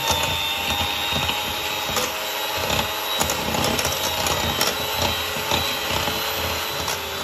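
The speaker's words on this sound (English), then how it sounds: "I'm gonna use an electric whisk. I'm just gonna whisk it this up for a while." Electric whisk beats butter and sugar for a sponge cake batter, a continuous close motor whine with a rough rattling texture that holds steady throughout without talk.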